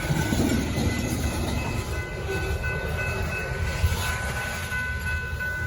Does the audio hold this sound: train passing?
yes